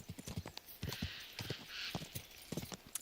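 Horse hooves clip-clop at a steady gallop-like rhythm in Kingdom Come Deliverance 2, close and fairly loud, with a breathy rushing layer underneath.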